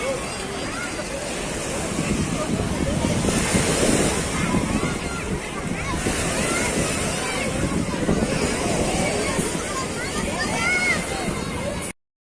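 Calm sea waves wash steadily onto Gleem public beach in Alexandria, a continuous soft roar of surf with wind buffeting the microphone and faint crowd murmur in the background.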